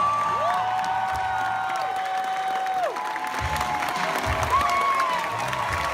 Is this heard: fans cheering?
yes